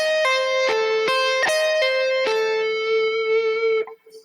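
A distorted electric guitar plays a sweep-picked diminished arpeggio: a few sharp picked notes ring into a sustained, buzzing tone that holds for several seconds, loud and close, then cuts off abruptly with no talking.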